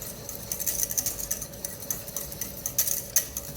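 A whisk or spoon scrapes and clicks steadily against a saucepan while cupcake cream mixture is stirred, producing a continuous rhythmic tapping up close.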